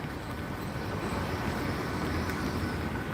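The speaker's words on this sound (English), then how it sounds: "we got a train just arrived into platform 2 now" A five-coach train service to Bristol Temple Meads pulls into platform 2 at Gloucester station, producing a steady, loud, broad rumble that holds evenly throughout with no voices over it.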